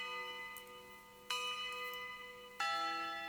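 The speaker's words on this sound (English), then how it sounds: "That is the sample, Tubular Bell," A sampled tubular bell strikes three times in slow succession, each hit a bright metallic clang with a long ringing decay that overlaps the next.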